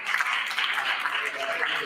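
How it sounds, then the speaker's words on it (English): A round of applause for the resource persons at a small business workshop: steady, dense clapping from an audience, moderately loud and continuous throughout. "Please let us give a round of applause for them."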